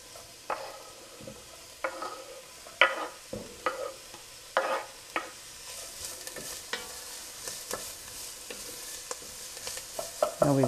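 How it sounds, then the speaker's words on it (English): Vegetables sizzling in hot oil in a warm pan for Bolognese sauce, a soft continuous fry punctuated by a series of close spoon clacks and scrapes, the sizzle swelling louder toward the end. "And because the pan is pretty warm, this oil should be hot. Put all the vegetables in."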